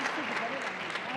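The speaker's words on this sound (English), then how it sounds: "Why you clapping?" Brief burst of audience clapping, dense and steady throughout, with a voice heard over it.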